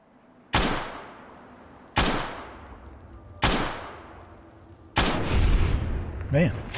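Four loud, close gunshots from weapons in Fallout: Tale of Two Wastelands, spaced over about five seconds, each with a sharp crack and a long decaying echo, the last one followed by rumbling and a brief buzzing tone.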